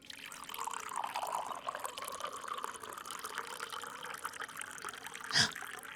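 Water poured in a steady, soft trickle over coffee grounds at a barista's bench, a continuous gentle stream lasting several seconds with a brief brighter splash near the end.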